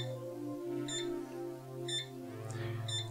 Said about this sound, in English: You see it's beeping every second here